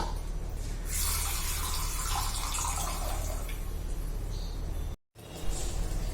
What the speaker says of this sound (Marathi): एकदम चांगले खळखळून पाणी धुवून घ्यायचे